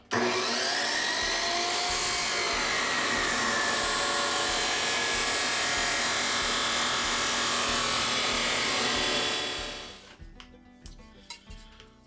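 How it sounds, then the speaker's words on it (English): A metal cutoff saw spins up and grinds through angle iron in one loud, sustained, close screaming whine, then winds down, followed by light clanks of metal being handled. "I got my metal cutoff saw set up here. I'm going to cut this angle."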